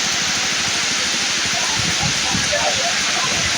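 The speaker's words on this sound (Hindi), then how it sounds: "क्या झमाझम बारिश स्टार्ट हुआ है।" Heavy rain pours steadily in a dense, continuous hiss during a village feast, with voices murmuring faintly underneath throughout.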